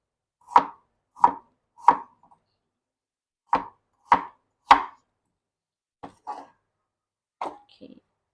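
Knife chopping potatoes and carrots on a board in a home kitchen, with three crisp evenly spaced chops, a pause, three more, then a few lighter uneven cuts, close and clear with no talking.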